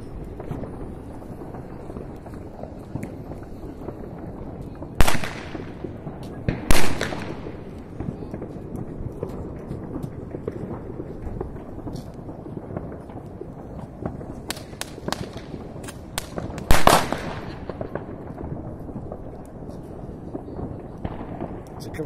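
Fireworks and firecrackers go off during New Year's celebrations, a handful of sharp, scattered bangs at irregular intervals with faint pops between, over a steady outdoor murmur.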